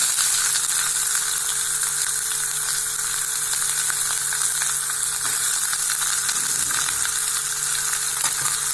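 Onions sizzle steadily in a hot pan alongside chana dal, a constant close frying hiss that carries on without a break and with no voices.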